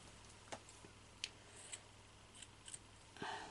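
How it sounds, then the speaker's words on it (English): Scissors cutting fabric at a craft table for sewing, heard as several faint, sharp snips spaced irregularly against quiet room noise. "Okay, cut this off straight."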